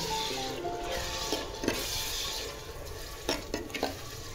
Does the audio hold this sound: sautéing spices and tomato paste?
yes